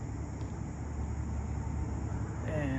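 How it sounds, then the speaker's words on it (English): Faint, steady hum of car traffic on a four-lane road carried across the Clinch River to a kayak floating along the edge of town, a distant continuous wash with a brief tonal sound near the end. "You can hear the cars."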